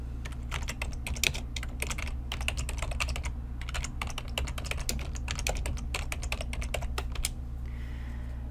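Rapid, close keystrokes on a computer keyboard while writing Excel VBA code, a dense irregular clatter of typing with brief pauses and a low steady hum beneath, then a quieter stretch at the end; no speech.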